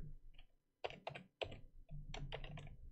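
Typing on a computer keyboard while writing code: several close, crisp bursts of rapid keystrokes separated by brief pauses, with no voices.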